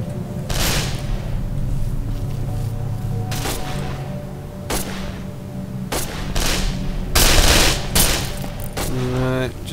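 Scattered gunshots ring out in the video game Condemned: Criminal Origins, several sharp bursts spaced a second or two apart over a steady background drone, with voices talking in between.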